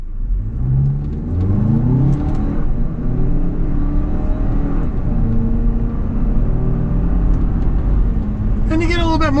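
A 2026 Toyota Highlander XLE AWD accelerating hard in manual sport mode, engine rising in pitch through successive gears with audible drops at each shift, loud cabin drone with a person speaking over it.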